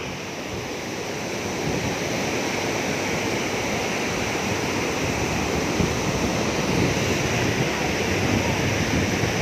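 The Li Phi waterfall at Khone Phapheng at low water roars in a dense, steady rush of falling water, loud and unbroken, with some wind buffeting the microphone.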